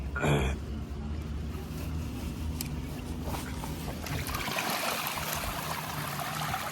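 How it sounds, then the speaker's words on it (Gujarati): Water gushes and trickles steadily as it drains out of a village pond, a continuous splashing flow with a brief bump at the start. "એરોને પહેલાં તો પાણી બહાર કાઢી કાઢીએ"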